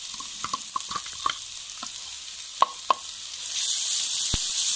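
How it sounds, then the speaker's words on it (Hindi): Onion paste fries in a pan with browned garlic, giving a soft sizzle broken by scattered clinks and stirring knocks, with the hiss swelling louder toward the end. "अभी प्याज हमारे भून रहे हैं"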